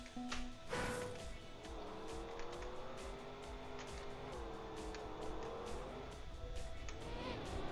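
The desert car in Trackmania drives on with a steady engine drone whose pitch slides up and down, accompanied by a few sharp clicks near the start and no voices.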